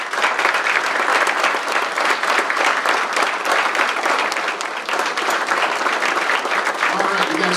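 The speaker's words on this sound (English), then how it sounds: "let's have some applause for all of our employees." A crowd at a State of the City presentation applauds city employees, with dense, continuous clapping that holds steady for several seconds and scattered cheers and voices mixed in.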